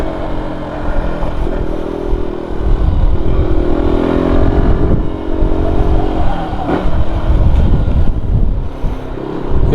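Motorcycle engine running steadily while riding, a fresh, pre-run-in engine held back from pushing hard, giving a continuous loud drone with slight rises and falls in pitch and no talk over it.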